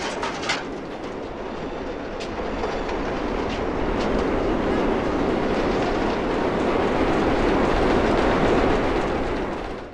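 A train rushes past at close range in a film scene from The Blues Brothers, a loud continuous roar with rattling wheels that builds over ten seconds, with faint bird calls early on.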